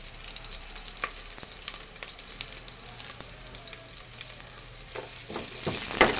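Onions fry in a pan, giving a steady close sizzle with scattered crackles and occasional stirring scrapes that rise slightly near the end, with no voices.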